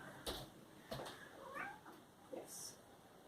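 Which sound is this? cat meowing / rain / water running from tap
cat meowing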